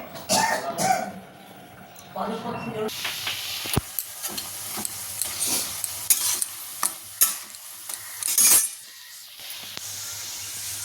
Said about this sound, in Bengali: এখন এই যে গরম গরম আবার পাকোড়াগুলো ভাজছি